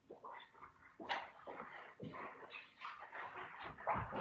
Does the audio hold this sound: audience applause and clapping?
no